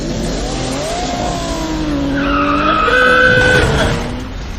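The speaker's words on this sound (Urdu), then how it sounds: "تک ان کی بائکس کی پھسلنے کی آواز" Motorbikes skidding on a road make drawn-out tire squeals and screeches that rise and bend in pitch over a continuous engine roar, loud and sustained like a sound effect.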